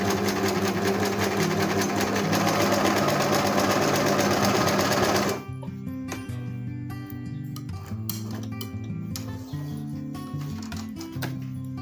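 Domestic sewing machine stitching a zigzag, a fast dense buzzing run for about five seconds, then a slower, lighter stretch of separate ticking stitches.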